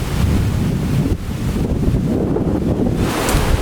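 Strong typhoon wind roars steadily across the microphone on the Siargao coast during Typhoon Auring, with surf and waves churning close by, loud and continuous throughout with no talking.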